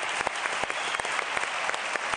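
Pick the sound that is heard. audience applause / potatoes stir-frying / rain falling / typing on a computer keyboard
audience applause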